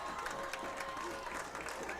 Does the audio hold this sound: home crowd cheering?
yes